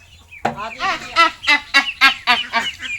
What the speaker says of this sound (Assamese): এইবোৰ হাঁহ পোৱালি বুলি একদম বৰ অশান্তি লগাইছে